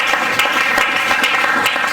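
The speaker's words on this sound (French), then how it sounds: "Est-ce que nous pouvons applaudir pour les Seigneurs?" An audience at a church conference applauds with steady, dense, loud clapping that holds for the whole stretch, and no one speaks over it.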